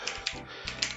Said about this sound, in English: we are going to go to the terminal and we are going to type pip